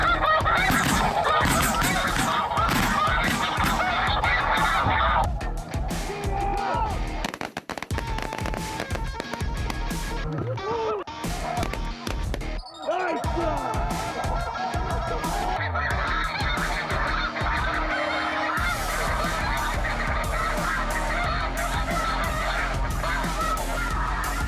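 Large flocks of snow geese honk in a dense, continuous clamor during a Midwest waterfowl hunt, calls overlapping loudly and close throughout with a brief lull midway.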